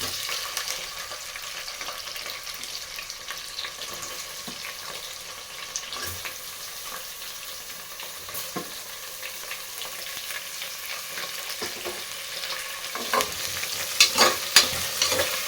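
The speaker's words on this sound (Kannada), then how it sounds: "ಈರುಳ್ಳಿನ ಒಂದು ಎರಡರಿಂದ ಮೂರು ನಿಮಿಷ ಚೆನ್ನಾಗಿ ರೋಸ್ಟ್ ಮಾಡ್ಕೊಳ್ಳೋಣ" Chopped onions roast in a pan over low flame with a steady broadband sizzle and frequent stirring scrapes, growing busier with sharper clinks near the end; no talking.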